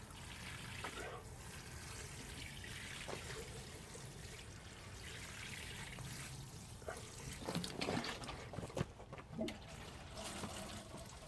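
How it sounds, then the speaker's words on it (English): Water trickles and splashes steadily as salad leaf seedlings in a tray are watered, a soft continuous flow with a few louder gushes and spatters near the end. "I'm going to give them some water now."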